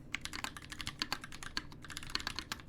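Rapid typing on a Keycult No.1 Rev.1 gasket-mount mechanical keyboard with an aluminum plate and Holy Panda switches, crisp clacky keystrokes in a quick continuous run, close and fairly quiet.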